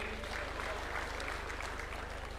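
Applause from an audience greeting party members at a political governing council meeting, a brief burst of dense clapping that sounds moderately distant and sustained throughout.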